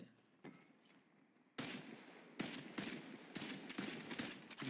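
Gunfire in the tactical shooter Caliber, marksman showdown mode: after a faint quiet stretch, a series of loud, sharp shots and short bursts come in irregular clusters, each trailing into echo, with no voices.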